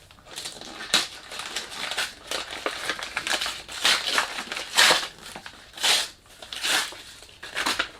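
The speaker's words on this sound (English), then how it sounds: "Sorry about the noise. This is the nature of unboxing" Crinkling and crushing of Al Haramain Signature Red and Signature Blue perfume packaging during unboxing, close and continuous, with irregular rustling bursts of paper and plastic and no speech.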